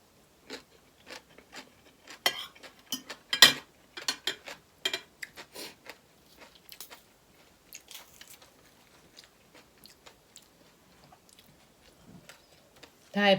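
Someone chews crunchy green papaya salad made with crab sauce, giving close, crisp irregular crunches and bites that come in bursts with short pauses between them.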